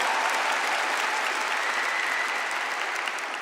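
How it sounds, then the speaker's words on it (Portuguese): A church congregation applauds, a dense, even wash of clapping that holds steady and alone from start to finish. "Aplaudam aí."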